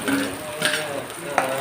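Chopped onions fry in hot oil with popped mustard seeds for a spinach stir-fry, giving a steady close sizzle with two sharp stirring scrapes.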